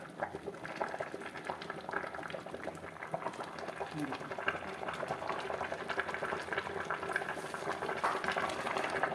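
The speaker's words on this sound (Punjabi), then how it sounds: "ਹੁਣ ਇਹਦੇ ਵੀ ਕੱਢਾਂਗੇ ਸਾਗ ਦਾ ਪਾਣੀ" Steady watery bubbling and trickling as water drains from a pot of cooked mustard greens, with faint talk in the background.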